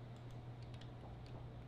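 Computer keyboard and mouse in use, with faint, sparse key taps and clicks over a low steady hum, quiet and close with no speech.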